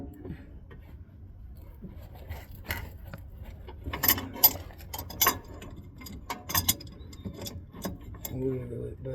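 A ratchet wrench clicks in short irregular bursts while working on the steering rack of a 2004 Ford F150, sharp ratcheting ticks over a quiet background of shop noise.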